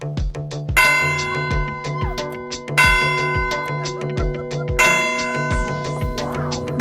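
Church tower bells ring out in the medieval village of Sortelha, Portugal: loud, resonant strikes that repeat in slow swells, each leaving a long shimmering hum that fades before the next peal.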